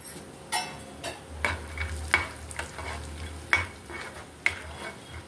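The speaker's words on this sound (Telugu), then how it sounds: "పోపు ఇలా మీడియం ఫ్లేమ్లో పెట్టుకొని వేయించుకోండి." Dried red chillies and peanuts crackle steadily in oil over medium flame while a spoon scrapes and stirs in repeated strokes, with a few light metallic clinks.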